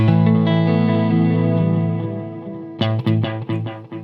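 Guitar played through a tape-echo style effect set to recreate a Roland Space Echo RE-201: a loud sustained chord swells and slowly fades, then a few plucked notes ring with repeating echoes trailing behind.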